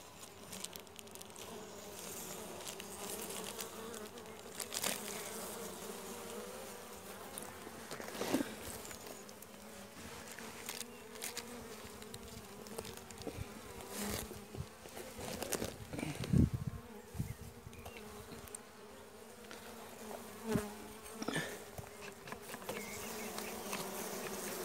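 Honeybees in a weak hive fill the air with a dense, steady buzzing across the frames, close and continuous, with occasional louder passes of individual bees near the listener.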